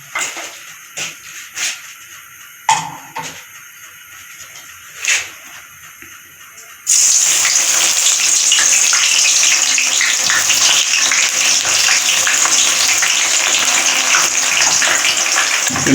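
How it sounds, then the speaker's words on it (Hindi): Eggplant goes into a pot of hot oil to fry. A few scattered clanks and taps come first, then a sudden loud, steady sizzle takes over and holds close for the rest of the clip. "बैंगन को अभी हम पतीले में डालेंगे"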